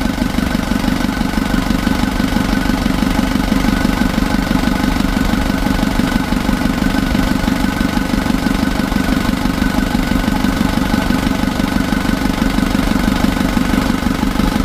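Rebuilt Isuzu Traga engine running on its first start, a steady loud idle with an even rapid knocking pulse throughout, close and unbroken, no voices.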